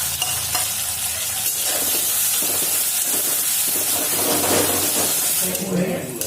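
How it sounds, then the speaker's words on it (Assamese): Chopped green chillies and onions fry in hot oil in a pan for kachori, a steady close sizzle with stirring and scraping throughout, and a voice speaks over it. "কেঁচা জলকীয়া আৰু মৰিচ, পিঁয়াজখিনি ইয়াতে দি দিলোঁ। এইখিনি আগতে ভাজি লওঁ"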